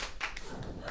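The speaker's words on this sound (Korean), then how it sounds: "박수 감사합니다." Audience applause at a church Q&A event, a brief patter of a few claps with scattered sharp hand taps over a low room murmur.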